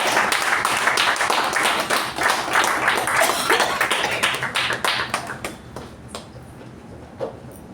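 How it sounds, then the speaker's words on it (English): Audience applause rises in a dense wave of clapping after a speaker introduces the Senior General Manager of MECON Ltd at a company meeting, then thins out to scattered claps and fades near the end. "Please, with a huge round of applause, help me in welcoming our Senior General Manager of MECON Ltd"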